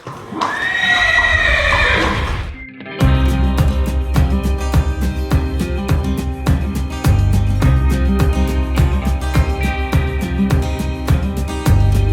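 Crioulo horses neigh and whinny at a breeding ranch, a loud close call opening before a short gap, then steady music-like rhythmic beats and clip-clop carry on continuously without speech.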